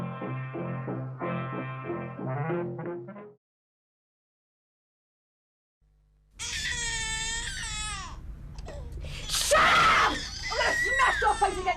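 A child screams and cries in a public service announcement, with loud wailing sobs that break off into a few seconds of silence and then come back in harsh, rising shrieks over an adult voice.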